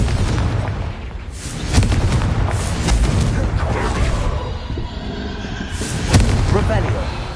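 Repeated spell blasts in the Hogwarts Legacy video game, the fiery Confringo curse among them: a dense, loud wash of booming bursts and crackling impacts that runs throughout, with a voice calling out spell names over it.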